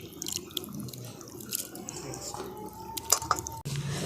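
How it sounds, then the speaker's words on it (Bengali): Running water rinsing grated potatoes in a kitchen, a soft trickle with splashes, drips and a few clinks of a bowl, fairly faint and close. "আলুগুলোকে খুব ভালো করে পরিষ্কার করে জল দিয়ে ধুয়ে নিয়ে চলে এসেছি"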